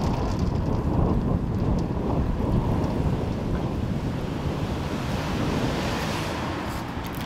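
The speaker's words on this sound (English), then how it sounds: "Wind always blowing though," Steady outdoor wind buffeting the microphone, a dense low rumble that holds at a constant loud level for the whole stretch with no speech over it.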